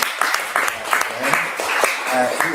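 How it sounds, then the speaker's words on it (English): A round of clapping for panelists at the close of a local election forum, brief and moderately loud, with a voice talking over part of it. "Can we have a round of applause?"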